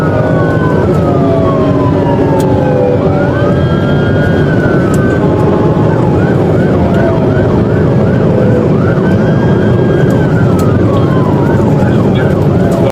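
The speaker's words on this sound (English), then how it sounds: "Lights flashed and sirens cut through traffic" Police car sirens wailing and yelping during a high-speed chase after a stolen vehicle, several overlapping sirens sweeping up and down continuously and loudly over road traffic noise.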